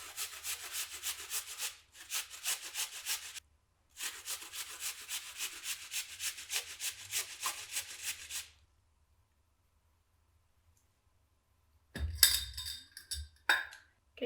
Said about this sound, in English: So I'm gonna grate the apple.